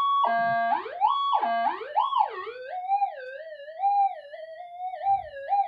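A homemade high-power pin pointer metal detector, acting like a mono coil, held near a battery gives out a loud electronic tone that rises and falls in repeated siren-like sweeps, then settles into a wavering warble.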